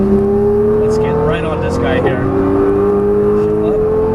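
A Nissan GT-R driven at full throttle on a Las Vegas street, its engine holding a steady loud drone with rising tones through acceleration, heard from inside the car beneath a man's spoken instruction.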